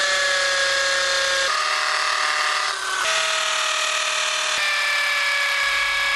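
An electric drill straining at a farm runs continuously and loudly close by, its whining pitch shifting in steps as the load changes, with no talking.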